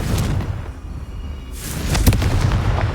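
A Confringo fire spell in Hogwarts Legacy goes off as a loud, rumbling game blast, with a broad whooshing burst building in the second half over a dense background rumble.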